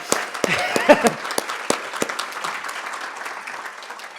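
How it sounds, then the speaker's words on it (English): An audience at a chamber of commerce forum gives Julie Nelson a round of applause, scattered clapping that starts stronger and gradually thins out over a few seconds. "we get to give you a larger round of applause because it takes a little longer"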